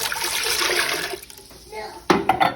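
Chicken broth, four measured cups, poured into a soup pot of black bean soup, a steady liquid pour for about a second and a half that tapers off, followed by a few louder clanks and splashes.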